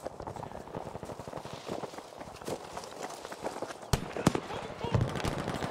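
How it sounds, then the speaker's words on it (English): In the Battlefield V video game, gunfire from an FG-42 rifle cracks in scattered short bursts and sharp single shots mixed with footsteps and battle noise, a few louder reports near the end, all under a low game-ambience bed. "We got some gunfire coming from the top end with the FG-42"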